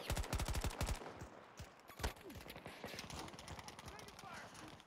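Rapid bursts of starter pistol gunfire in the shooter game Battle of the Fields, a quick string of loud cracks opening the stretch, then scattered shots and further bursts under a busy background of other noise.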